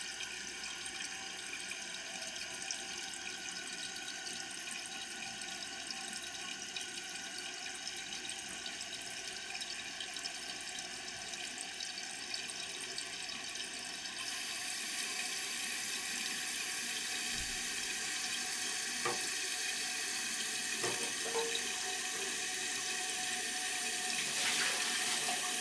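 A toilet tank refills with water in a steady hiss and rush, growing louder partway through, with a few small clicks and drips, close by and alone.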